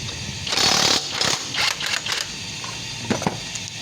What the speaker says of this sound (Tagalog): Tapos tanggalin natin oil pump cover rotor. Gamit tayo ng castle wrench.